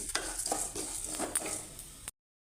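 Cumin and coriander seeds roasting together in a pan give off a soft crackle as a spoon scrapes and stirs them, quiet and close, ending in a brief cut to silence.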